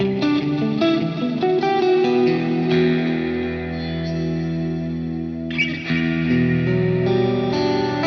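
An electric guitar through a TC Electronic Hall of Fame 2 reverb on a Plethora X3 pedalboard plays sustained chords and single notes soaked in long, spacious hall reverb, blooming and trailing off into a lingering wash.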